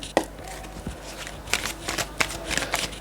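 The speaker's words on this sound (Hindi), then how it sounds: "कुछ कार्ड्स और हम यहाँ लेंगे।" Tarot cards are shuffled by hand in quick riffling bursts and soft slaps, close and crisp, with a few sharper taps in an otherwise quiet room.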